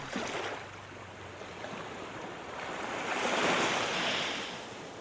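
Sea waves crash against a small island where a crow's nest sits, giving a continuous rushing surf that swells into a louder breaking wave near the end, with wind in the background.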